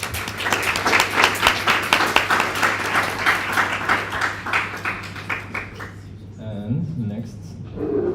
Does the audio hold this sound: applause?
yes